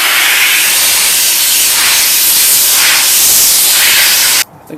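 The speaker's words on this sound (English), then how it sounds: "I like to use a blower and speed up the process" An air blower hisses in a loud, steady blast while drying a washed air filter, its rushing noise swelling slightly a few times before cutting off abruptly near the end.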